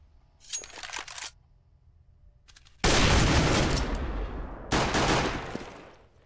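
A sniper rifle shot in Counter-Strike on the Inferno map, with an early burst of gunfire, then one loud close shot that rings out, followed by a second heavy blast.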